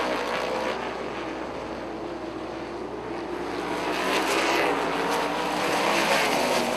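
Sprint cars racing late in a feature at Rockford Speedway, heard as a broad, distant engine roar that swells and fades as the cars pass, with crowd and open-air noise beneath it.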